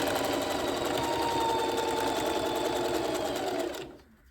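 A Singer sewing machine runs in a fast continuous stitching buzz while sewing a wig, loud and close, then stops abruptly near the end, leaving near silence.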